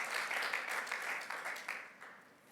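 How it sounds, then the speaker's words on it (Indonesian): A church congregation at an Indonesian Sunday worship service claps at length in praise of Jesus, a dense, fairly faint wash of many hands that holds steady and then thins toward the end. "Tepuk tangan yang panjang bagi Tuhan Yesus."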